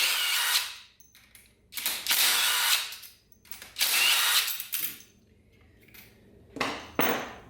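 A power tool zips bolts out of a 4L80E transmission valve body in a series of close, loud whirring bursts, each a second or so long, separated by short pauses and a few metallic clinks.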